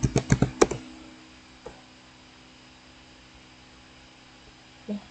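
A quick run of about six crisp keystrokes on a computer keyboard while entering a password at an SSH login, close and clear, then near silence broken by a single later tap and one more soft keypress at the end.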